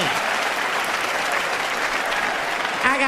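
A comedy show audience claps loudly and continuously, a thick wash of applause that ends with a brief voice cutting in over the tail.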